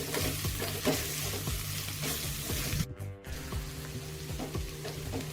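Wild leaf vegetable (takla leaves) with grated fresh coconut being stirred and fried in a pan, a steady close sizzle with repeated scraping stir strokes throughout and a brief pause midway.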